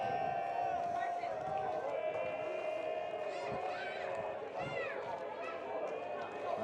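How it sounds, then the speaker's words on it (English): Crowd chatter in the stands at a high school baseball game, a steady murmur of many voices with occasional shouts rising above it, moderately distant. "Nice little chatter in the crowd too"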